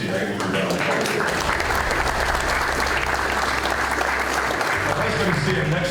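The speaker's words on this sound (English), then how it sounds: "I want to give Carlos a good round of applause." Loud, continuous applause from a crowd at a football luncheon, thick and steady throughout, with a low hum beneath it.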